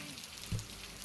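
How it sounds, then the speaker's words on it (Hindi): Heavy monsoon rain falling in a Himalayan mountain village, a steady hissing patter on surfaces with one brief thud partway through, continuous and moderately faint. "और अब देखो बारिश लग गई है इतनी"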